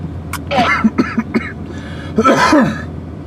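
A man coughing and clearing his throat after a drink of Pepsi goes down the wrong way, several close, harsh hacking bursts in two clusters with a short pause between.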